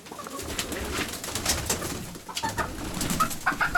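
Several pigeons coo and flutter close by as a hen attacks them, a steady busy murmur of calls with a few brighter chirps near the end.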